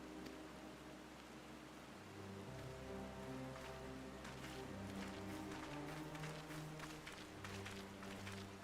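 Steady rain pours down in Final Fantasy XIV, a soft continuous hiss with scattered droplet patter, joined by layered tonal game music that swells midway and carries on beneath it.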